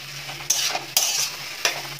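Tomato sauce mixture being stirred in a pan with a utensil, giving four distinct scraping strokes at uneven intervals over a faint steady background, with no voices.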